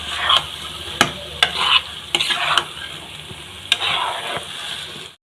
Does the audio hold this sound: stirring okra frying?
yes